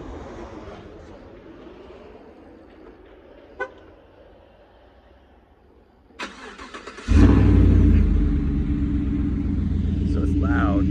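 Cold start of a 5.3 GMC Sierra pickup truck with a Black Widow exhaust in California: a starter crank, then the engine catches into a loud, deep, steady rumble, with a voice speaking briefly before.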